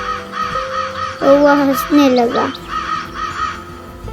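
A crow caws in a narrated Hindi children's story, its harsh calls rising over a steady background tone and mixed in with a narrator's voice.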